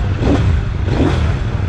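A CFMOTO 800NK motorcycle engine revs loudly up close, surging twice in short throaty bursts.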